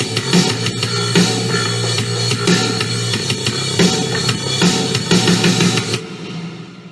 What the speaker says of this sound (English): So what does that sound like with drums?